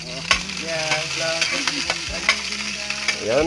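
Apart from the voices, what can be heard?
stirring dried fish frying in cooking oil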